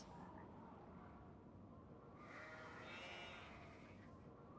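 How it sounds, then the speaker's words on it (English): A sheep bleats in the video game Nancy Drew: The Haunting of Castle Malloy. A short, wavering bleat rises midway over a quiet, steady ambient background, and no one talks. "That is a sheep noise."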